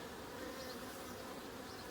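A steady, dense buzz of many honeybees humming together inside a queenless hive, constant and fairly quiet with no voices.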